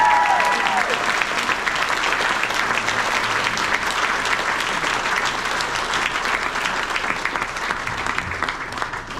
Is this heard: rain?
no